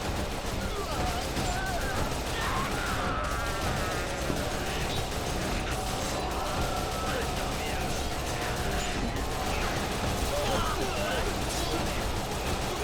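Rapid gunfire from a video game, Like a Dragon Ishin, rattles in repeated bursts over a busy, continuous game soundscape for the whole stretch, loud and close.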